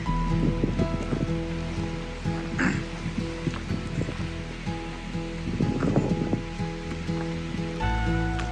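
Wind blows steadily at the Webster Cliffs campsite on the Appalachian Trail near Mount Washington, a loud, continuous roar with surf-like surges and rustling, rising and falling in gusts throughout.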